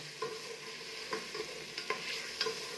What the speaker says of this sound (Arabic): حطيت حبه بصله نقعد نقلي فيها كيما هكا حتى تبدا البصله تبدل اللون تاعها